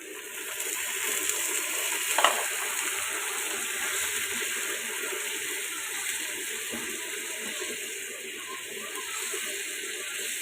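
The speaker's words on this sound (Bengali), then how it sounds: "আমি একটু বাটি ধোয়া পানিটা অ্যাড করে দিলাম" Bowl-rinsing water added to beef tripe frying in a pan at home, a steady broad sizzle and watery bubbling running throughout with one brief splash near the start, moderately close, no talk.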